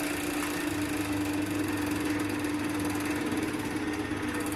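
A lathe turns slowly, around 1000 RPM, while an acrylic pen blank is sanded with 150-grit paper, giving a steady, continuous motor hum with a constant low tone and no speech.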